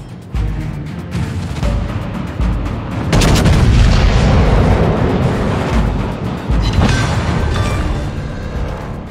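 Heavy naval artillery in a warship battle game booms out in a deep, rolling barrage, loud and sustained, with a few sharper gunshot cracks scattered through the thunder.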